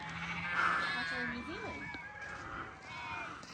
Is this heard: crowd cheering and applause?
no